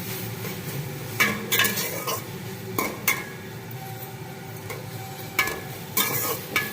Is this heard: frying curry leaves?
yes